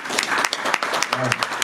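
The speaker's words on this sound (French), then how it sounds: "On peut applaudir, c'est beau." Conference audience at the Angers GeekFest 2021 breaks into a brief burst of clapping, quick overlapping claps mixed with a talking voice throughout.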